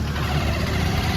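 Motorbike engine running steadily close by on the road up to a temple palace, a low continuous rumble throughout with no talk.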